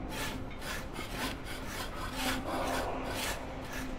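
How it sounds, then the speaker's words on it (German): A hand saw rasps through material in the video game A Way Out, a continuous back-and-forth rhythm of strokes, loud and close, with no voices over it. "Guck mal, wie ich sägen kann."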